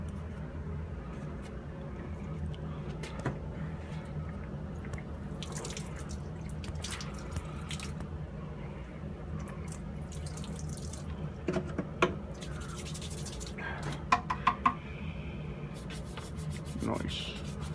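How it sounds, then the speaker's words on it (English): Wood is rinsed with water and scrubbed with a brush, a low steady wash of running water under scattered rubbing and scrubbing strokes and a few light taps, fairly quiet and close. "usually I take the brush and water to it and rinse and brush and rinse and brush"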